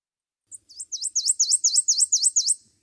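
A prothonotary warbler, a swamp bird, sings a loud, clear series of about ten rising, ringing sweet notes in quick even rhythm, close and alone against silence.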